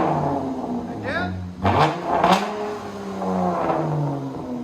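A straight-piped Jeep Grand Cherokee revs in bursts: a rising sweep, then two sharp loud blips, then a settling idle rumble, all close by.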